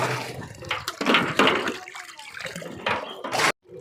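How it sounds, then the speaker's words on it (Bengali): In a garden, water pours from a pipe into a drum in irregular splashing gushes that stop abruptly at the end, with a voice heard faintly at times. "এখন কিন্তু জল পড়ছে ভালো"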